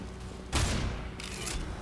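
Gunfire from Counter-Strike: Global Offensive: a loud burst of rapid shots rings out, then a second burst follows about half a second later. Both sit over a low background rumble, with no talking.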